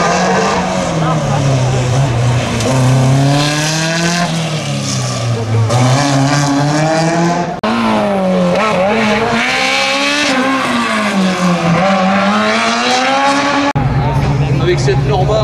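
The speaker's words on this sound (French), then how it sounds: "Avec cette Norma reconditionnée cet hiver avec un gros moteur." A Norma race car rebuilt with a big engine is driven hard at a slalom in Saint-Lô, its loud engine revving up and down through repeated gear changes and corners, with a commentator talking over it.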